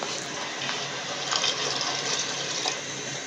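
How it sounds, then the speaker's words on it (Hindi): Water poured into a cooking pot over a sauce mixture in a home kitchen, a steady close splashing pour lasting the whole stretch with no talk. "अब हम हाफ प्याली के करीब इसमें पानी ऐड करेंगे"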